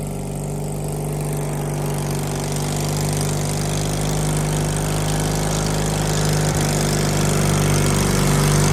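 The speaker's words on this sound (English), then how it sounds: "Apparently we're using like a Predator engine." Lawnmower fitted with a Predator engine runs continuously, a loud, steady, close mechanical drone with a rough low rumble and no pauses.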